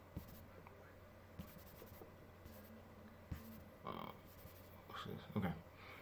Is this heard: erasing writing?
yes